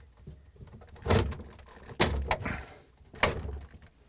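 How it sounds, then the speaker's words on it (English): A rail assembly for a Samsung fridge vegetable drawer slides into cutouts and is pushed home, giving several close, dull knocks and scraping plastic slides spaced a second or so apart over faint room noise. "we're going to slide the back portion into these cutouts on the rails, push it in"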